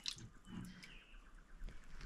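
Water drips slowly from a spigot left barely open at a rural ranch, small soft plinks and trickles, faint and close, alone without any voices.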